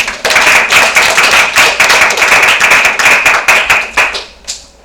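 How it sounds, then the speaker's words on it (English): An audience claps in a dense, loud burst of applause right up close, many hands beating together steadily before the clapping thins and trails off at the end. "Let's give him a thunderous round of applause."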